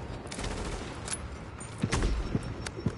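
A sniper rifle shot from a PS4 shooter game cracks out amid dense game noise, with a few sharp bursts near the end standing out over a busy, rumbling background.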